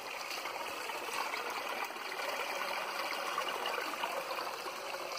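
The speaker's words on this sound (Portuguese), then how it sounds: "E tem uma pequena cachoeirinha aqui, rapaz." A small waterfall and stream flow in the Caatinga, giving a steady, full rush of splashing water that continues evenly without pause, close by and with no voices.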